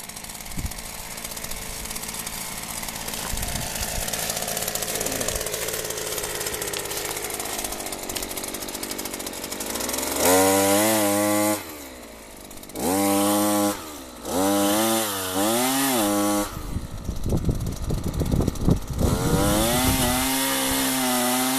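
Husqvarna 327P5x pole saw pruning overhead tree branches: a steady two-stroke engine drone, then several loud revving bursts with brief dips between them as the chain cuts through wood.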